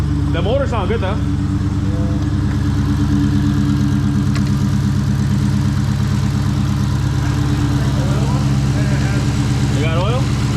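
A totaled Dodge Charger Hellcat Redeye engine idles steadily nearby with a low, even rumble, while people talk faintly over it.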